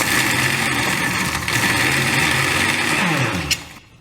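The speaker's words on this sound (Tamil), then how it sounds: "இப்போது இந்த மசாலாவை அரைச்சிக்கலாம். பச்சை மிளகா, இஞ்சி, சோம்பு, பூண்டு இதை அரைச்சிக்கலாம்." A mixer grinder whirs loudly and steadily as it grinds green chili, ginger, fennel and garlic into a coarse masala, then winds down and stops near the end.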